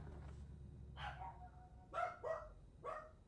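Dogs barking indoors in several sharp barks, one early and faint, then a louder burst of three to four barks close by, with a low hum underneath.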